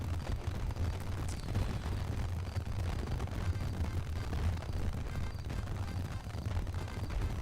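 In-game fireworks in a scripted video game: a continuous rumbling roar of crackling bursts with low booming undertones, steady and fairly loud throughout with no clear gaps.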